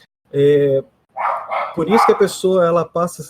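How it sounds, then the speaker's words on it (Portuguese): Dogs barking close by, a few loud barks and yips, the first standing alone and the later ones mixed in with someone talking. "tem uns cachorros latindo aqui do meu irmão"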